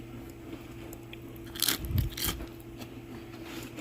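A few crisp crunching bites of fresh coleslaw, close up, clustered in the middle of an otherwise quiet stretch.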